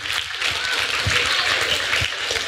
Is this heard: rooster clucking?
no